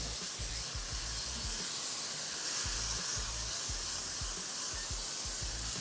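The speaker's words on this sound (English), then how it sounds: "So I'm going in with about a cup of coconut milk." Coconut milk simmering in a pot of chicken pelau, a steady soft hiss and bubbling with low rhythmic popping underneath, continuous and fairly quiet, with no talk.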